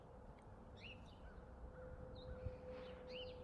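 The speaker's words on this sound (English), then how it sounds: "So the sounds of the birds" Birds call outdoors, crow-like caws and short chirps scattered faintly over a steady background hum, distant and soft.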